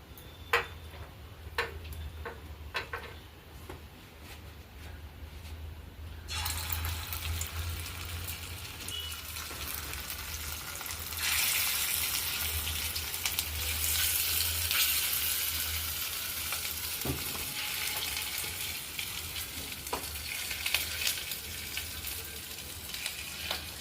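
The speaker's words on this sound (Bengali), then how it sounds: "তেলটা বেশ গরম হয়ে গেছে, এবারে বড়াগুলো একে একে দেবো।" Prawn fritters fry in hot mustard oil with a steady, fairly loud sizzle that swells and brightens as pieces go in, broken by a few small ticks and taps, with no talking.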